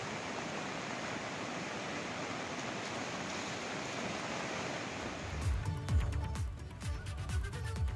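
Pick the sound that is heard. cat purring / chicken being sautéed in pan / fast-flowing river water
fast-flowing river water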